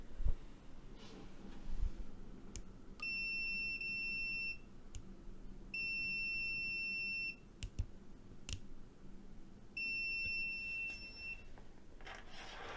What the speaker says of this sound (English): And this is automatic continuity testing.